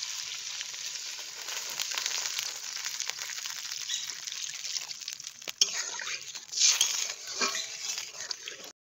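Water poured into a pan of lightly fried onion and capsicum with chilli for egg chilli, loud continuous sizzling that flares and hisses then settles into bubbling, with a brief scrape.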